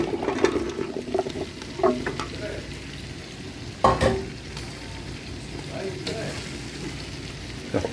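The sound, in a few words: stirring mixed vegetables in pan for chicken sambar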